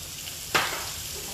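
Ginger garlic paste blended from ginger and garlic hits a hot pan for a rabbit curry, giving a sudden sharp sizzle that flares up and then settles into a softer steady frying hiss.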